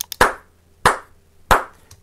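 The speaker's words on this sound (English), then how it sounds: "my claps are great" Three sharp, separate hand claps captured on a Sony camera, each a crisp close-up snap spaced well apart in a quiet room, with a couple of faint ticks at the start.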